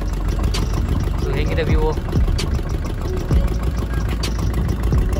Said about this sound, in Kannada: ಇವಾಗ ಹೋಗ್ತಾ ಇದ್ದೀವಿ ಬೋಟಲ್ಲಿ